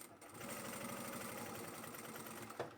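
Sewing machine triple stitching a tote bag pocket, a close, steady mechanical whir running continuously with a small knock near the end.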